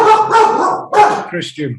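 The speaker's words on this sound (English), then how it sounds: "Sorry, that's my dog." A pet dog barks in a home during an online call, two or three close, sharp yips and barks over about two seconds, mixed with a person speaking.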